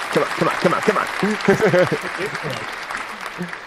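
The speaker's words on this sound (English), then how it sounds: "Great hot takes. Round of applause" Podcast hosts applauding, brisk hand clapping from a couple of people close to the microphone, running under overlapping speech and laughter for a few seconds.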